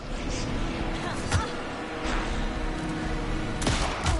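Bursts of gunfire crack out at intervals over a steady rumbling background, with other sounds from the video game Alan Wake 2 mixed in.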